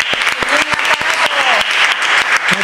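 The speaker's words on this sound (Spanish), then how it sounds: "vamos a darte un aplauso enorme para el doctor" Applause for a doctor on a Marbella radio or TV programme: dense hand clapping from a group, steady and fairly loud throughout, with a faint voice or tone briefly under it.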